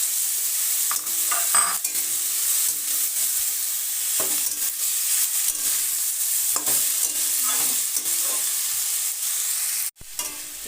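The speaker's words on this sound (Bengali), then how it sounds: "বাঁধাকপি দিয়ে দিলাম। দিয়ে ভালো করে ওপর নিচে করে" Finely shredded cabbage stirred and tossed in a frying pan for spring rolls, a steady sizzle with repeated scraping stirs throughout, close and fairly loud, ending abruptly near the end.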